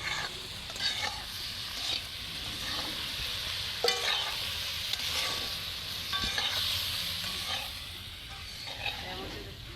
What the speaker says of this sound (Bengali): এবার মুড়োগুলো দিয়ে দিচ্ছি মাছে।